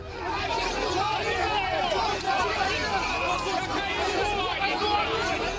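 A crowd in Luhansk jostles and shoves out the visiting politician Dobkin, a dense, steady hubbub of many voices shouting and milling close by, with no single voice standing out.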